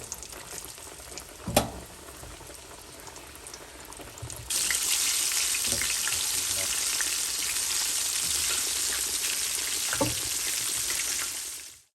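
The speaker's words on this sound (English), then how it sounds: "While our fish is frying on up" Fish frying in oil heated to 350 degrees Fahrenheit, a steady, loud bubbling sizzle that bursts on suddenly after a few quiet kitchen clatters and holds evenly until it fades out at the end.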